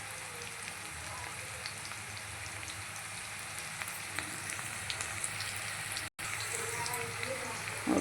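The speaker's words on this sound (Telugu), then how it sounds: "కొద్దిగా కలర్ వచ్చే వరకు వేయించుకుందాం" Okra (bendakaya) fries steadily in a pan with a soft, continuous crackle and sizzle, fairly quiet and even, with one brief dropout near the end.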